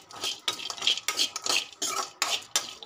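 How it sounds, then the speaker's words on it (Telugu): Dried coconut being dry roasted in a pan for mango pachadi, with close, steady rhythmic scraping and clinking of a utensil stirring against the pan, repeated in short strokes with no voices. "తర్వాత ఎండు కొబ్బరి కూడా డ్రై రోస్ట్ చేసుకోవాలి"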